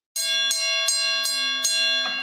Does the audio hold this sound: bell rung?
yes